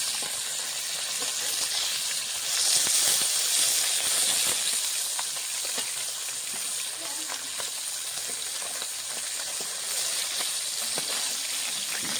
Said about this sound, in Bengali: মাছগুলো এক সাইডে ভাজা হয়ে গেছে, উল্টে দেবো।